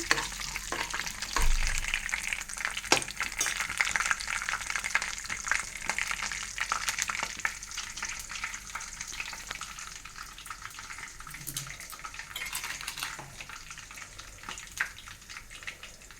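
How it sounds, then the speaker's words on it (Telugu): Tempering spices including mustard seeds frying in hot oil, a continuous close sizzle with scattered pops and stirring scrapes throughout, with no talking. "తాలింపు వేగుతుంది."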